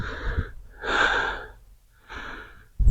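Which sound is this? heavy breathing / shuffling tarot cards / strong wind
heavy breathing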